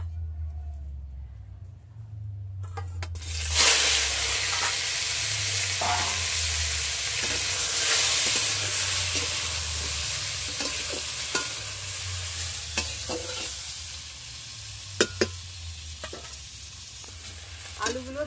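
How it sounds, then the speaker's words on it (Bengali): Potatoes frying in the same hot oil used for eggs, a loud continuous sizzle that flares up after a quiet start, with occasional utensil clinks and scrapes near the end. "এই তেলে আলুগুলো ভেজে নেব"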